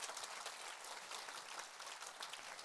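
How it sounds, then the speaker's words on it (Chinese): A seminar audience applauds together in a steady, dense patter of clapping that sounds faint and distant and holds an even level throughout. "要不要给自己一个鼓励的掌声一下？"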